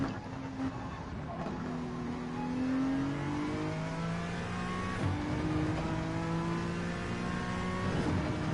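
Racing car engines revving in a video game, with rising and falling harmonic tones of several cars running close together in a steady, continuous drone.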